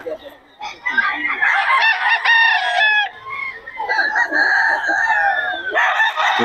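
A rooster crows loudly and nearby, with hens clucking around it and another crow following shortly after.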